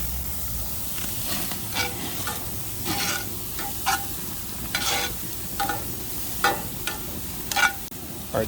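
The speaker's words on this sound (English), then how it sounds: "A super hot grill. So we're going to go ahead and put these down, flip them over," Shrimp sizzling loudly on a super hot grill pan, a steady crackling fry broken by repeated sharp scraping and clattering bursts as the pieces are set down and flipped.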